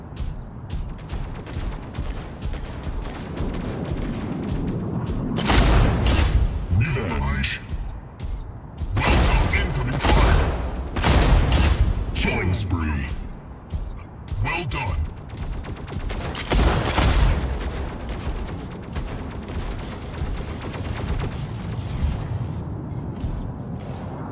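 Mech weapons in the Mech Arena video game fire in rapid, dense bursts of gunfire and booming impacts, loud and close, with the heaviest volleys clustered through the middle and mechanical clanks between; a voice speaks briefly.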